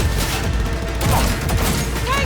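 Gunfire in the Cyberpunk 2077 video game: a rapid volley of shots and impacts over a rumbling low background, continuous and close, with brief shouted voices mixed in.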